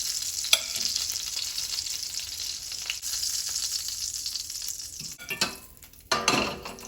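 Sweet Italian sausage being settled into pasta in a pan, a soft sizzle and stirring scrape with a few sharp utensil clinks against the pan, fairly quiet and close.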